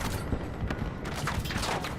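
Rapid bursts of M4 rifle gunfire in a video game crack out in a dense, loud volley, with the shots running close together over a couple of seconds.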